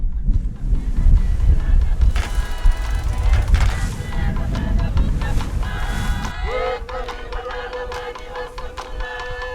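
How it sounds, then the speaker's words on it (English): Strong wind gusting 30-35 knots buffets the microphone in heavy gusts over rushing water on a rough sea off Fiji, with a steady tone emerging near the end. "It's gusting 30-35 knots, getting windier by the moment."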